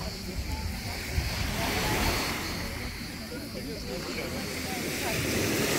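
Steady broadband wash of surf and wind at Akburun beach in Karaburun, continuous and fairly loud, with faint voices mixed in the background.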